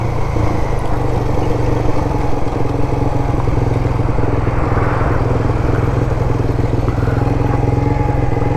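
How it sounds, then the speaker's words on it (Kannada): An off-road motorcycle runs continuously through a coffee estate, its engine droning steadily and up close for the whole stretch, with a rough clattering edge and no talk over it. "ರಾಹುಲ್ ಹೆಂಗಿತ್ತು ಬೈಕು?"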